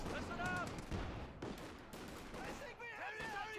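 Gunfire and explosions from the Company of Heroes 2 battle as a Pak 40 anti-tank gun fires, with sharp reports and booms over a busy battlefield mix, while a caster talks throughout.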